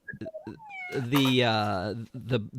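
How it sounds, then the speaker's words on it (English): A cat meows in a long, rising-and-falling wail lasting about a second, with shorter chirpy vocal sounds before and after, close and fairly loud in an open venue. "there's another cat that has entered the arena"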